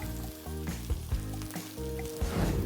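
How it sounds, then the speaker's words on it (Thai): Mushrooms and carrots stir-fried in a little oil, a steady close sizzle with scraping stir strokes through it, no voices. "ทำการผัดเครื่องเอาน้ำมันใส่ลงไป ไม่ต้องเยอะ ตามมาติดๆด้วยนี่ก่อน เห็ดหรือขาเห็ด ผัดไป ผัดก่อน แครอท"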